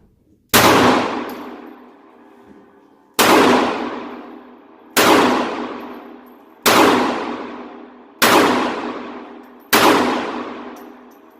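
Six loud, sharp shots from a Ruger LCP2 pistol at a shooting range, each a hard crack with a ringing decay, spaced evenly about one and a half seconds apart with quiet between them.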